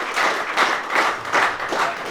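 Audience applause at an anniversary gathering of a charity group in Tash-Kömür, steady clapping from a crowd that swells and eases in waves.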